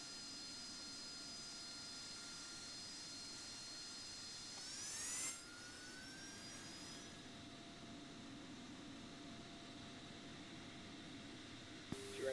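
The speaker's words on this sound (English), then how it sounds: "Height one is going to go vertical takeoff." An AV-8B Harrier's jet engine in the Falcon BMS flight simulator runs up for a vertical takeoff, a steady roar with a whine that rises and swells near the middle before settling back into a constant drone.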